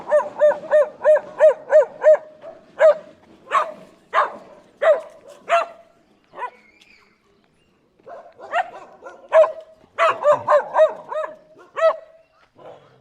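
A dog barks repeatedly outdoors during a walk through Malamulele, loud, regular bursts in two runs separated by a few seconds of quiet, with no talk over it.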